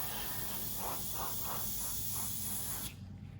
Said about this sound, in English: I didn't dilute this in my airbrush, I'm just misting over it